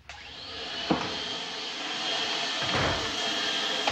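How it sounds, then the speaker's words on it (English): A vacuum cleaner runs continuously on a rug late at night, a steady close whine and rush with a few brief thumps as it moves, no talking over it. "a great time to vacuum the rug"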